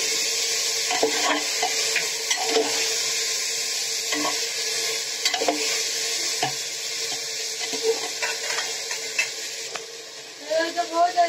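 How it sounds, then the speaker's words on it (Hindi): Mutton with ginger and garlic paste sautéed for mughlai mutton do pyaza, a loud, constant close sizzle broken by repeated stirring clanks and scrapes. "अदरक का पेस्ट अब इन सबको अच्छे से सोटे कर लेना है"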